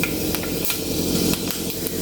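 Fenugreek seeds spluttering in hot coconut oil in a pan, a steady close crackling sizzle with sharp pops scattered through it.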